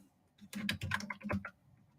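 A short burst of quick keystrokes on a computer keyboard, crisp and close, with quiet before and after.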